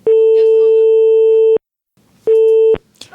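A loud telephone busy signal during a prank phone call, two steady tones, a long one of about one and a half seconds, then a pause and a shorter one, with faint voice fragments around them.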